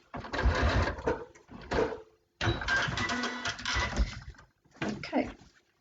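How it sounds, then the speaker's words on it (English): Sewing machine stitching quilt binding into a corner, running in short bursts with a stop and pause between runs, a close mechanical whir and clatter. "Pin out, pivot, and sew into the corner."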